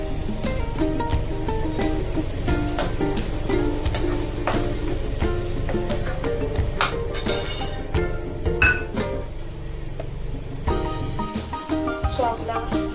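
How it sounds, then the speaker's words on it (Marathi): Tomato paste sizzles steadily in a pan of softened onions for a restaurant-style palak paneer, with a spoon scraping and clinking against the pan throughout. The frying stays loud and continuous, with no talk. "सो आता मी याच्यामध्ये टोमॅटोची पेस्ट टाकते."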